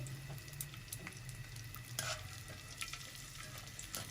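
Edible gum (gond) frying in hot ghee over low heat, puffing up with a soft continuous close sizzle and crackle, occasional light stirring clicks, no speech.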